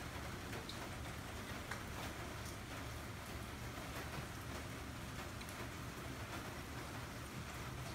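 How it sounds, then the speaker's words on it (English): Rain falling outdoors, a faint, steady hiss of drops hitting surfaces, continuous with no talk. "Kind of a rainy day out here."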